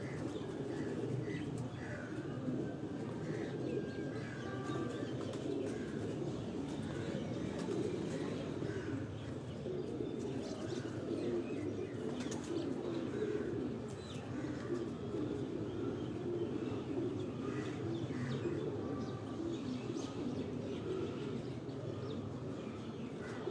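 Golden pigeons coo in a loft, soft repeated low coos and occasional chirps beneath a steady murmur of background voices and activity.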